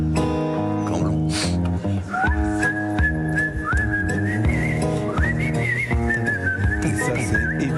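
A clear whistled melody carries over a full instrumental accompaniment, the whistling sliding between sustained notes, loud and close.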